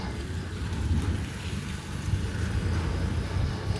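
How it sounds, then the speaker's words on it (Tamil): Rain falls outdoors in Tirupathur as a steady, dense hiss with low rumbling wind noise on the microphone, continuous and fairly close without pauses. "திரும்பவும் மழை பார்த்திங்கன்னா ஸ்டார்ட் ஆகிடுச்சு"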